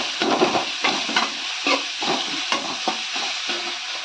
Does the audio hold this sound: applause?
no